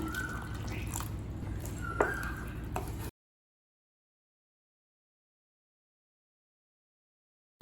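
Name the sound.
water being poured into soya chunk gravy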